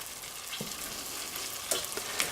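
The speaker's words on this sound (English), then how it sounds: "Don't want that to sizzle for too long." A steady, faint hiss of food frying in olive oil in a pan, with a couple of light clicks from a utensil.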